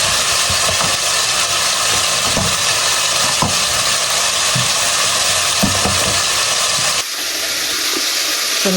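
Food dropped into hot cooking oil fries with a loud, steady, dense sizzle close up, broken by a few utensil knocks, the sizzle easing slightly near the end.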